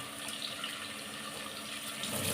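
Coriander leaves being rinsed under a running kitchen tap, a steady continuous stream of water splashing into a sink, fairly close and uninterrupted, with no voices.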